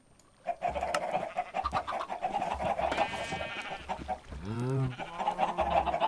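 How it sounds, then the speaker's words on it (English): Minecraft chickens cluck loudly and repeatedly, busy layered clucks and squawks close by, with a rising-falling tonal call near the end. "Let's turn it up and hear how loud these chickens are, because it is ridiculous."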